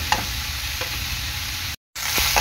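Bitter gourd frying in oil in a pan over a high gas flame, a steady close sizzle with a few stirring scrapes, cut by a brief moment of silence near the end.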